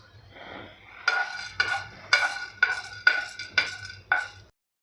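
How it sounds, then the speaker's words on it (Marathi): Cloves and nagkesar sautéing in a little oil in a pan, heard as seven quick rhythmic scraping strokes of a spoon against the pan, close and fairly clear with no talk. "आता पॅनमध्ये पुन्हा आपल्याला थोडंसं तेल घालायचं आहे आणि ह्या तेलामध्ये आपल्याला लवंग आणि नाकेश्वर हे परतून घ्यायचं आहे।"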